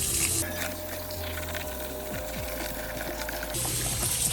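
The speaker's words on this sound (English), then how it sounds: "And again with the hot water." Hot tap water runs steadily into a sink while CPAP parts are washed with Dawn dish soap. The flow is a continuous rushing hiss with a low humming pump-like undertone and brief shifts in intensity.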